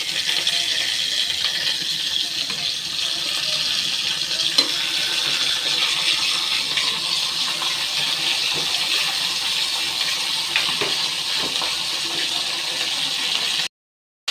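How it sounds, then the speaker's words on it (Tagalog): A cup of water is poured into a pan of frying pork steak with garlic and onion, producing a steady loud sizzling, bubbling wash that runs continuously and then cuts off abruptly. "Lalagyan natin ng 1 cup of water para mapalambot."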